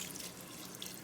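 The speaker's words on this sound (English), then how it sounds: "So now we're gonna add some water" Water runs from a tap into a pressure cooker, a brief steady hiss of pouring liquid heard close and fairly faint.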